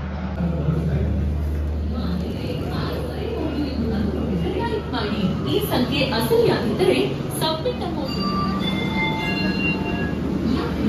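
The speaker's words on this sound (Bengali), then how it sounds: "এই হচ্ছে আমাদের ট্রেন গরিবরথ এক্সপ্রেস।" The Garib Rath Express stands at a station platform, with a low rumble and metallic wheel squeals rising over busy platform noise while people talk nearby.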